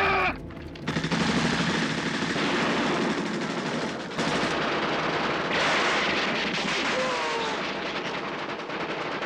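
Loud, sustained machine-gun fire mixed with heavy artillery blasts roars through a war-film battle scene, rapid bursts running almost without a break for several seconds.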